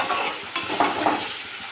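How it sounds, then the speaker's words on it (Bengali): Spice paste frying in oil sizzles steadily while being stirred, with a few sharp scrapes and taps of the utensil standing out clearly against the hiss. "মশলা থেকে তেল ছেড়ে যাওয়া পর্যন্ত মশলাটা খুব ভালোভাবে কষিয়ে নেব"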